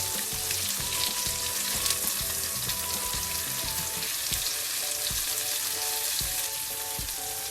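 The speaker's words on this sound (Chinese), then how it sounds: "小火将两面煎至金黄色" Meat-stuffed eggplant rings pan-fry in oil over low heat, a loud, continuous close sizzle with light background music underneath.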